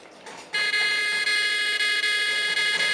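Alarm set off by a disconnected Makey Makey sensor, a sudden loud, continuous high-pitched electronic buzzing tone that starts abruptly and holds steadily, with no talk over it.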